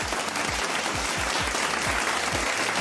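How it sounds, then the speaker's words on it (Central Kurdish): An indoor audience claps together in dense, continuous applause, loud and close, with a faint voice underneath. "کوا چەپڵەکانتان"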